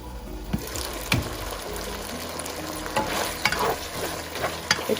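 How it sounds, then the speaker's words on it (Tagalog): Garlic fries in a pan for an onion and chicken dish, a steady close sizzle broken by repeated scraping clicks as it is stirred. "So you have to stir it when the garlic is turned light brown."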